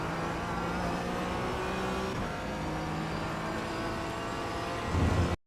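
A Porsche 718 Cayman GT4 in the iRacing sim at Imola holds full throttle in a loud, steady engine drone that swells near the end, then cuts off abruptly.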